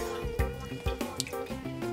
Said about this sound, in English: Go ahead and drain these out.